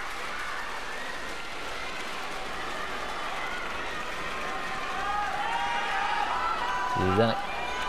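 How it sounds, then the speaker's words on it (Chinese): Spectators in a packed arena cheer and applaud loudly during a women's singles table tennis final at the world championships, a steady crowd roar that swells toward the end, with a sharp burst near the close. "也听得到不少他的支持者很大声来为他加油喝彩"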